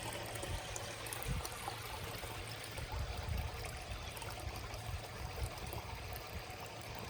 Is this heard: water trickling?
yes